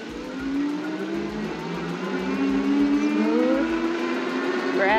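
Whirring electric hub motor of an Engwe EP2-PRO folding fat tire eBike ridden on throttle alone, a steady rising whine over wind and tire rumble, close and continuous.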